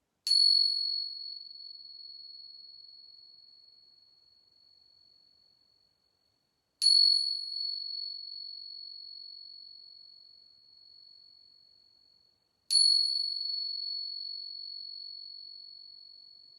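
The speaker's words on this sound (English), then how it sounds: "Listening for the sound of the bell" A bright bell chimes three times in a quiet children's yoga class, each clear ring sustaining and slowly fading before the next strike, with silence all around.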